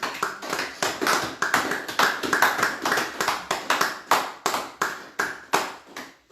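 A prayer congregation claps together in a steady, even rhythm of sharp, loud hand claps, roughly three per second, with no talking.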